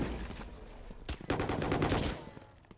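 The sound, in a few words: gunfire in the video game Valorant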